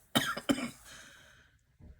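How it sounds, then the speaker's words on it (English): Two sharp, close coughs from someone recovering from bronchitis in quick succession, followed by a short breathy rasp and quiet. "I still have a slight cough"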